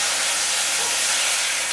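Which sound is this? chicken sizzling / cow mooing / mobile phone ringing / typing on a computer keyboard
chicken sizzling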